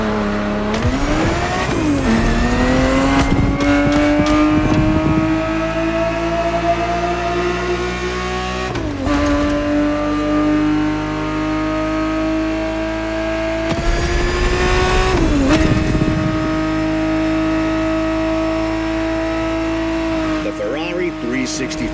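Ferrari 365 GTB4 engine racing in a driving video game, loud and continuous, revving up through several gear shifts with rising and dropping pitch, under a narrator's voice.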